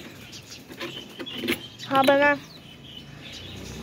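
Pigeons, including a white one and a wild one, are let out of their coop on a rainy day. A short, bright call rises midway, surrounded by faint rustling, and a person speaks briefly nearby.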